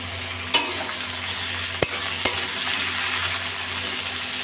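Sliced eggplant and long strips of ridge gourd fry in a pan with a steady, soft sizzle, broken by a few sharp stirring clicks from a utensil; no one speaks.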